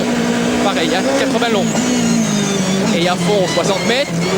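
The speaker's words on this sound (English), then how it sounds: "this is the sort of onboard action to raise the hackles on the back of your neck. Just the speed around these tiny French lanes" Onboard sound from a Citroën rally car racing through narrow French country lanes at the 1998 Rallye du Limousin. The engine drones loudly and keeps rising and falling in pitch through gear changes, while a commentator talks over it.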